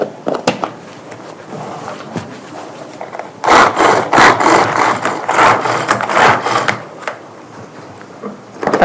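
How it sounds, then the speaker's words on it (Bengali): An electric chopper machine whirs and chatters as it minces onion, starting with short scattered bursts, then running in loud, rapid pulsing spurts for several seconds before stopping and giving a final brief burst. "সাথে রয়েছে আমাদের এই চপার মেশিনটি, যাতে আদা, রসুন, পেঁয়াজ কুচি করা যাবে সহজেই।"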